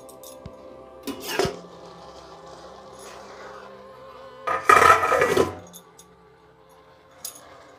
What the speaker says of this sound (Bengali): ঢাকাটা খুলে নিচ্ছি।